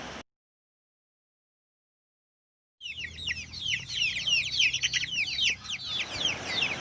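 Chickens in a coop cluck and chatter continuously and fairly close after a short silent gap, with overlapping calls from several birds.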